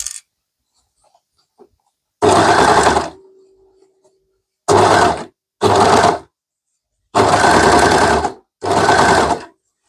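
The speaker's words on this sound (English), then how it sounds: "So for the iris, I went ahead and sewed on my cuffs." Sewing machine stitching cuffs onto a summer t-shirt, five loud close bursts of rapid stitching separated by short pauses, with a faint hum between the first two bursts.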